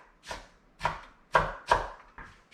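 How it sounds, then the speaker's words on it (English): A knife chops through an onion on a cutting board: five sharp, separate knocks at an uneven pace, close and fairly quiet, with no talking. "this is where you can just cut up the rest of this onion"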